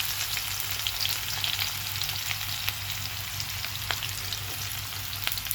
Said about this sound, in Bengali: তার সাথে এখন পেঁয়াজগুলো দিয়ে দিব।